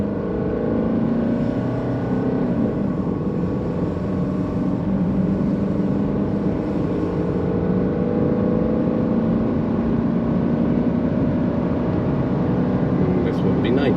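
An old diesel car at full throttle accelerates hard from inside the cabin, a steady loud engine drone with rising harmonics that climb gradually over the whole stretch, continuous road and wind noise beneath.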